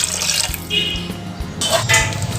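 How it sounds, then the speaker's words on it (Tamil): Coconut water is poured into a pot of rasam, a close splashing trickle of liquid with uneven gurgles and a few small knocks. "அடுத்தது தேங்காய் தண்ணிங்க."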